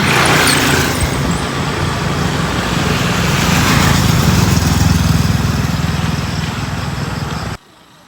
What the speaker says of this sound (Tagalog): May motor pa na doon.